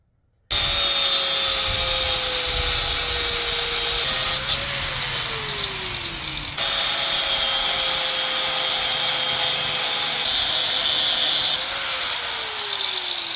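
Power tool cutting through a Hyundai coil spring for budget lowering, a loud steady high whine with a tone that sags as the blade bites, pausing briefly midway before a second long cut.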